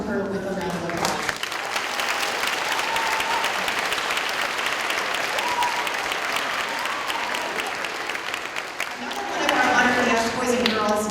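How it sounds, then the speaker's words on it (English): An audience at a school award assembly applauds loudly and continuously, a dense wash of clapping that swells near the end, with a voice briefly audible at the start and again as it fades. "So can you welcome her with a round of applause?"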